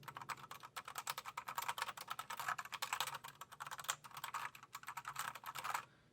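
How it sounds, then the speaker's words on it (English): Rapid clicky full presses on the small keys of a mechanical keyboard, bright and crisp, in quick uneven bursts for several seconds before stopping. "now I'm going to do full presses on the small keys"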